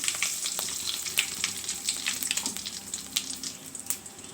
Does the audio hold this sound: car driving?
no